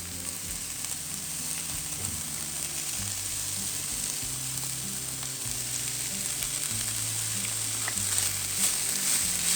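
Chopped carrot and cabbage fry in a pan with a steady, close sizzling hiss that holds throughout, faint low hum beneath and no voices.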